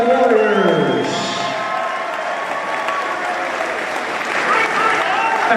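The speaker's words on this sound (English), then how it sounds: "Gentlemen, a big round of applause for both of these professional warriors." A crowd at a professional fight event, likely a combat sports bout decided over three rounds, applauds and cheers loudly and continuously, near and dense, with an announcer's voice booming over the noise.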